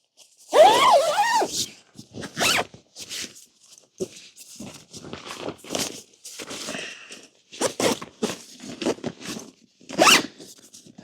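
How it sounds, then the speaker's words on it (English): The zipper on a Freespirit Recreation 4XL Hub tent is worked in repeated short, rasping pulls with brief pauses between them. A squeaky first drag is followed by several quicker zips, close and fairly loud. "Oh, the dust just really fucks with these zippers."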